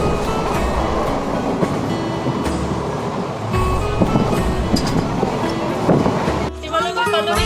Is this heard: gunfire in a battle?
no